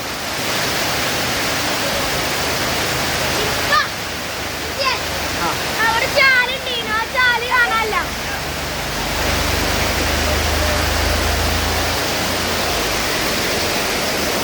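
Floodwater rushes after heavy rain in Cheriparamba, pouring through and into a shop as a loud, steady broadband roar that runs throughout, with brief voices breaking in near the middle.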